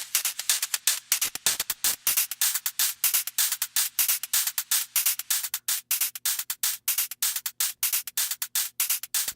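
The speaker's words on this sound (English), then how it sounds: "It's just like a regular hi-hat loop." A reverb-soaked hi-hat drum loop plays as a rapid, regular train of bright, hissy hits with short gaps, loud and close, with a faint low hum underneath.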